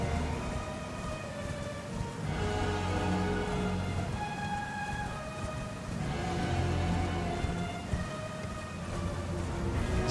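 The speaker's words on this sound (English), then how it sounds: "Giant storm now." A giant storm rages in Elden Ring, steady heavy rain and wind roaring continuously at full loudness, with low rumbling swells of thunder rolling underneath and no voices.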